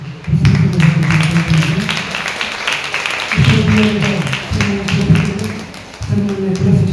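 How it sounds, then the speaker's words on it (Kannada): An audience applauds theatre artists at a World Theatre Day performance event, a steady crackle of clapping beneath a loud amplified voice speaking over it. "ಚಪ್ಪಾಳೆ ಮೂಲಕ ಮತ್ತೊಮ್ಮೆ"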